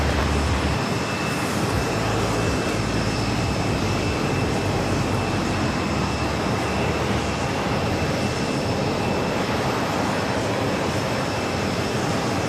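A heavy jet aircraft departing or arriving at JFK airport gives off a loud, sustained engine roar that stays dense and even for the whole stretch, with no voices heard.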